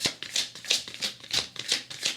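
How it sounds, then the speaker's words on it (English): Tarot cards are riffled and shuffled in repeated quick bursts of crisp flapping and slapping, about seven strokes in a steady rhythm. The sound is close and alone, with no talk. "Let's go ahead and start our shuffle again."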